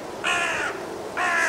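Two loud, close crow caws, one short harsh call followed by a second after a brief pause, alone with no talking.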